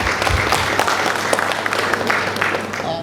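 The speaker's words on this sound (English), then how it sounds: "Let's give them a round of applause." A summit audience applauds in a large hall, dense sustained clapping throughout with a faint voice underneath.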